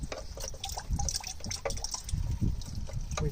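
Engine coolant pours and drips out beneath a Citroen DS3 1.6 VTi petrol during a water pump replacement, a steady liquid splashing and trickling sound that runs continuously and fairly close, with no talking.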